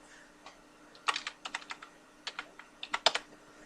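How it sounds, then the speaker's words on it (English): Typing on a computer keyboard while entering a short code: quick irregular bursts of crisp key clicks, close and fairly quiet, with brief pauses between clusters and no talking. "it's going to make me, type this little code down here"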